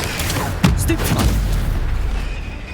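A spell blast from the Hogwarts Legacy video game, cast during a fight with spiders near a bridge, lands as one booming burst with a sharp onset and a rumbling tail over continuous game noise, with a voice shouting over it.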